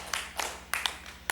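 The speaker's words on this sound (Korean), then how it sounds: "하나님께 영광의 박수 올립니다." Clapping in a church congregation during a Sunday morning worship service, a few sharp, separate claps spaced irregularly, close and fairly faint over a low hum.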